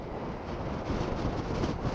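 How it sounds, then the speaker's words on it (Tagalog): Strong wind roars steadily before dawn on the Marilaque highway, strong enough to push a motorcycle, buffeting the microphone with a constant, rushing low noise and no voices. "Oh, lakas pa rin ng hangin, no."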